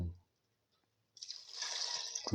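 Water poured into rice in a pressure cooker while making tomato fenugreek leaf rice, a steady close splashing pour that begins partway through and runs to the end.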